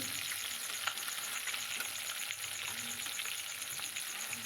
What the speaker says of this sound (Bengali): আর একটু ভাজছি দুটো কারণ ভাজা রাখবো তিনটে সেই কারণে আর একটু ভেজে নিচ্ছি